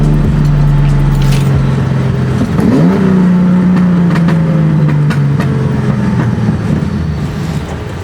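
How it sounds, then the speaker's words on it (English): A 1975 Datsun 280Z with individual throttle bodies revs hard, its loud engine note climbing sharply, then holding a strained drone before easing off, with scattered sharp crackles on deceleration and no talking. "you may experience quite a bit of backfiring on decel"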